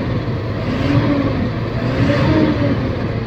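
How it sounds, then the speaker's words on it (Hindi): A Tata Signa 5530.S truck engine runs steadily close by and is given light revs, a continuous loud diesel rumble that swells slightly twice, with no talk over it. "ये गाड़ी अपनी स्टार्ट है रेस देना उस्ताद हल्का से"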